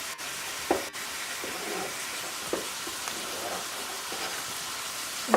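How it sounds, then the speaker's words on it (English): Meat frying in a pan for a ratatouille, a steady broadband sizzle running throughout with a few brief clatters of stirring or utensils, no talk. "while the meat is cooking"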